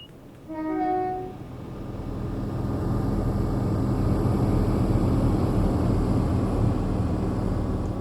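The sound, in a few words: Class 170 train engine roaring outside, Train Sim World 5 video game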